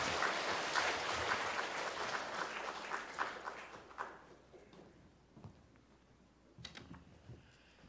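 A church congregation claps together in a sustained burst of applause during a Korean worship service that gradually fades out, leaving scattered claps and soft room noise.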